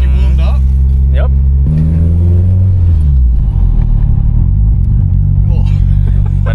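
A big-turbo SR20-powered Nissan Sentra pulls away, its loud, close engine note climbing through the revs under steady cabin rumble, with voices chatting inside the car.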